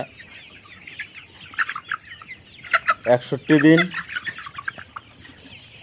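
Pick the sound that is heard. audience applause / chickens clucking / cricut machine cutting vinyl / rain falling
chickens clucking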